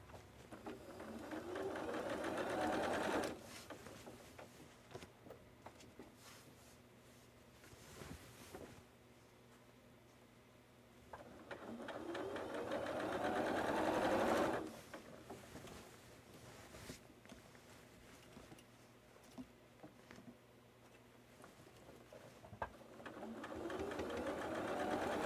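A sewing machine stitches a quilted coat in bursts, a close, steady motor whir rising and falling in several runs separated by quieter pauses of light handling.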